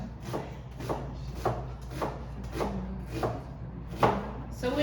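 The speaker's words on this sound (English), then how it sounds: "I am going to slice my sweet onion because I think that looks more egg rolly" A knife slices through a halved sweet onion on a cutting board, with about eight crisp, evenly spaced chops close by.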